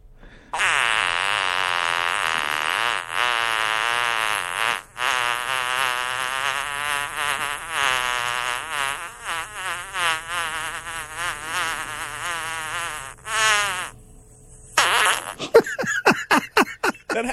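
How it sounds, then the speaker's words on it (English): A very long recorded fart plays back from a phone or computer, a continuous buzzing, sputtering blast lasting over ten seconds that wavers in pitch, then ends in a few short bursts. "It's people recording their farts and putting them on the internet."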